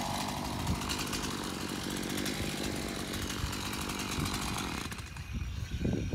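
A chainsaw whose chain has jumped off keeps running in a loud, continuous buzz with a rattling texture, then drops to a quieter, uneven sputter near the end.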